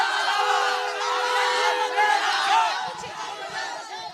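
A big crowd at an election campaign rally in Chhapra, Bihar roars with massed cheering and shouted slogans, loud and dense throughout, many voices calling at once.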